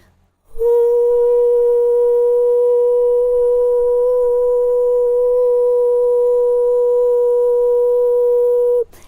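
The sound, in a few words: sung straight note B4 without vibrato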